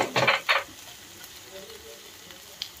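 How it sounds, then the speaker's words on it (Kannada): Cumin seeds and fenugreek hit hot oil for a fish curry, giving a brief close sizzling burst near the start before the pan settles to a faint hiss. "ಜೀರಿಗೆ ಹಾಕ್ತಾ ಇದ್ದೀನಿ ಅರ್ಧ ಸ್ಪೂನ್ ಫ್ರೈ ಮಾಡೋದಕ್ಕೆ, ಮತ್ತು ಅರ್ಧ ಸ್ಪೂನ್ ಮೆಂತ್ಯ"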